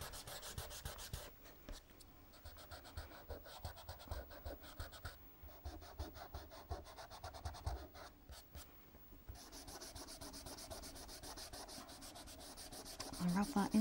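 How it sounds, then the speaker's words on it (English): Yellow and white colour rubbed onto a mixed-media animal painting: steady, close scratchy strokes in a fast back-and-forth rhythm, soft and continuous throughout with no voice. "Just rubbing the yellow and the white."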